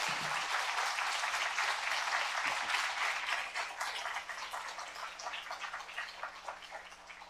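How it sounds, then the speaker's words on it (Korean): A church congregation at a Friday prayer meeting applauds as a pastor comes up to give his farewell sermon. The warm, continuous clapping is strongest at first, then thins and softens over seven seconds under a faint electrical hum. "김성배 목사님 나오실 때 또 한번 우리가 뜨거운 박수로"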